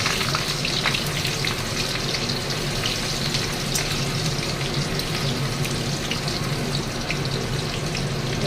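Onion, chili and a bay leaf fry in ghee for a mutton dish, giving a steady, dense sizzle throughout at moderate closeness, with no voices.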